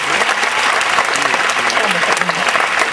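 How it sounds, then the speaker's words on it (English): Audience applause for a tribute band's performer, who plays a black and gold Rickenbacker. Sustained, dense clapping from a crowd fills the whole stretch at steady volume, with a voice faintly underneath. "Nice round of applause for Mr."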